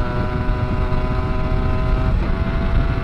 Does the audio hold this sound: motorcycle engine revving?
yes